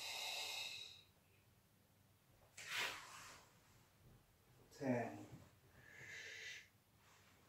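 Forceful, controlled breaths during Sanchin kata in karate practice, a few audible exhalations and inhalations spaced several seconds apart, close and hissing, with quiet pauses between.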